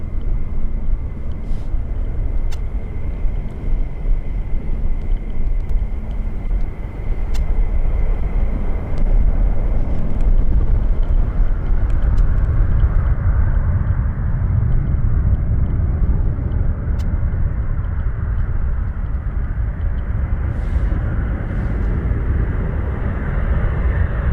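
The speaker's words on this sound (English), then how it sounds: "it sounds like we've got more F-15s coming out" F-15 fighter jets departing RAF Mildenhall airbase, heard as a loud, steady, low roar and rumble that fills the whole stretch without pause, with no voices.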